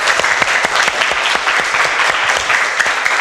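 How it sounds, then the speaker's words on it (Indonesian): Schoolchildren clapping together in a quick, dense burst of applause, loud and close, lasting a few seconds. "Aplaus untuk kita semua anak-anak."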